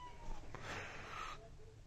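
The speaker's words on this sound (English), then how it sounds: "This cat wants to attack him." A cat lets out a drawn-out, strained meow while squaring up to attack another cat, the one close, fairly loud cry rising and falling over a faint background hiss.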